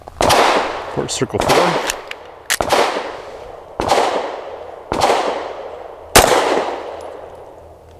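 A Springfield Armory Prodigy pistol fires SIG Elite Defense V-Crown 115 grain rounds at a range. Six loud, sharp shots ring out at uneven intervals, each with a ringing tail, and a voice speaks briefly between them.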